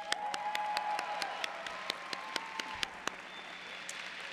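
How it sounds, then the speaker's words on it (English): Sparse, evenly spaced claps from a small group at a high school graduation ceremony ring out over a steady high tone, slowing and thinning toward the end. "Let's give them a round of applause."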